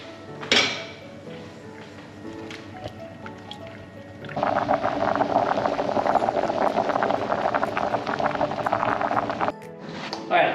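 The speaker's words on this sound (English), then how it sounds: "Stir that and we bring it to boil" Sauce with minced garlic and salt in a saucepan for lamb shanks, heating toward a boil: a brief clatter, then from about four seconds a steady close bubbling hiss that runs for several seconds before stopping.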